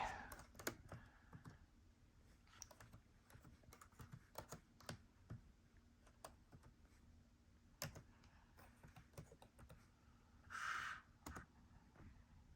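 Someone types on the keyboard of an HP 15-DY5073DX laptop with quiet, irregular clicks and keystrokes that continue for over twelve seconds, sometimes in short flurries, over faint background hum.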